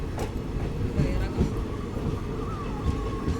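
A train rolling into Pamban station straight after crossing Pamban bridge on the Chennai to Rameshwaram line, heard from on board as a close, steady rumble with scattered wheel clicks and faint voices in the background.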